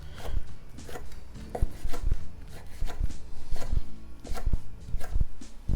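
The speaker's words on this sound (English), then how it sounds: "I'm just going to cut it into strips" A knife cuts about four ounces of sliced prosciutto into strips on a board, with close, quick, irregular chopping taps running steadily throughout.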